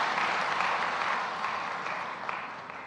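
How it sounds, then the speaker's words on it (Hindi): Audience clapping for two women, one a Pandavani performer, at an International Women's Day event in Bhopal: dense, even applause that slowly fades over three seconds. "मैं तो चाहूँगा कि दोनों के लिए तालियां बजाकर हम उनका अभिनंदन करें"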